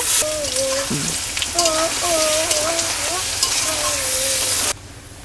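A spice paste of ginger-garlic and onion hits frying potatoes in a pan with a loud, steady sizzle and crackle, while someone talks over it before the noise cuts off abruptly near the end.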